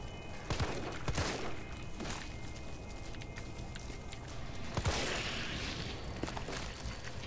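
Gunfire at exploding creatures in Resident Evil 3 Remake: several sharp shots crack out near the start and again around the middle, layered over constant game ambience with heavy low rumble.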